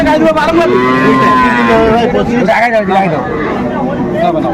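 A cow lows several times, long and drawn out with a rising and falling pitch, loud and close at a busy livestock market where dairy cows and calves are traded, with people talking and a crowd murmuring around it.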